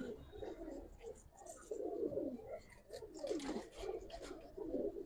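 Old-generation gribaz pigeons in a cage cooing repeatedly in soft, throaty rolling phrases, close by and fairly quiet, with faint background noise.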